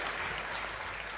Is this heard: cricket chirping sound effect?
no